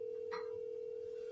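A phone call dialing out through an open mic night stage sound system, heard as a steady single tone that holds throughout, with a brief faint click partway in.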